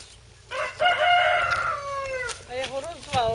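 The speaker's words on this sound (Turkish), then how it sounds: "Bu horoz kimi?" A rooster crows nearby, a long loud call followed by a shorter one, clear against quiet surroundings.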